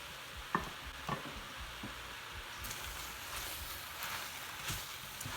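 Onion and garlic cooking in butter in a pan give off a steady, soft sizzle and crackle that runs without a break, with a few slightly sharper pops and no voices.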